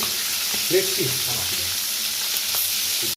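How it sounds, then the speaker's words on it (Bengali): Meat, being browned for a chicken roast, fries in a pan as a steady broadband hiss, with faint voice-like murmurs passing briefly in the background and a sharp click near the end. "আমাদের গোস্ত ভাজা প্রায় শেষের দিকে"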